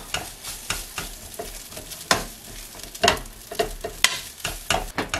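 Cooked rice is stirred and tossed in a frying pan for fried rice, with repeated scraping strokes and spatula taps in an uneven rhythm over a soft sizzle.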